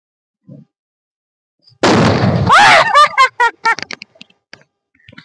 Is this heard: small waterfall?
no